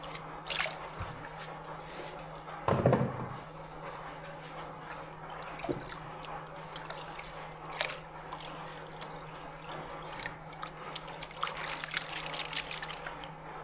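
Water trickles and drips steadily while crushed gold and silver ore is panned, with a louder splashing slosh partway through and soft intermittent dribbles over a low background hum.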